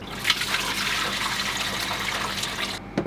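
A washing machine drains its water in a continuous rushing, gurgling flow that stops abruptly with a soft clunk near the end.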